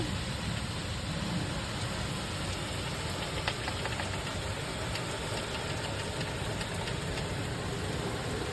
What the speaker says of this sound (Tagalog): There goes the weather. Pouring rain.